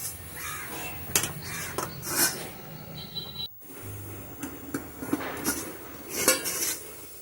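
Metal pot of boiling amla (Indian gooseberries) in a home kitchen, with scattered clinks and clatters of cookware, a sharp clank as the lid is set on, then more light rattling over a soft background.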